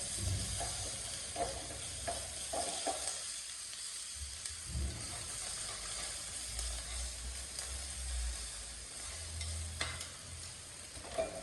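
Food is stirred and mixed in a pan while making a chia seed breakfast bowl, giving a steady scraping, sizzling texture with occasional spoon knocks and brief soft voice moments underneath.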